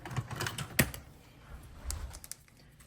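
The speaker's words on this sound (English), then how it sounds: "I'm just going to clip them with my zigzag scissors" Quiet, close snipping of zigzag scissors through fabric edges, a scattered series of small crisp cuts with soft rustling between them.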